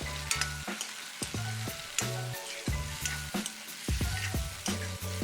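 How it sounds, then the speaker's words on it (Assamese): Mustard fish curry with drumsticks sizzles steadily in a pan while a spoon scrapes and knocks against the metal in a regular stirring rhythm, close and alone. "এতিয়া অকণ লৰাই দিম"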